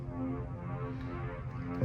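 The lower layer of a processed atmospheric pad sample used in an electronic remix: a dense, dark, steady drone rich in low tones, held at moderate-low level without breaks or talking.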